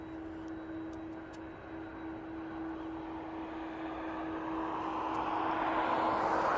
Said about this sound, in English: loved seeing that aircraft